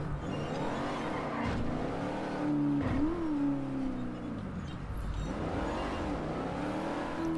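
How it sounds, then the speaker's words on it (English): A Cutlass car driving around the block, its engine a steady hum with gentle rises and falls in pitch as it accelerates and eases off, heard continuously from inside or close by. "So we're gonna take this cutlass for a spin around the block."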